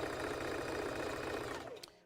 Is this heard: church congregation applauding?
no